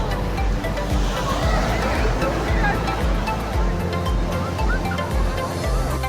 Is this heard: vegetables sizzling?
no